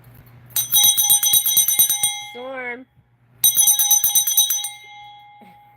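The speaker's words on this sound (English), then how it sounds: "We hear the bells, we hear the bells." Bells ring out bright and metallic in two sustained bursts, loud and close, with rapid repeated strikes. A short spoken word falls in the gap between the bursts.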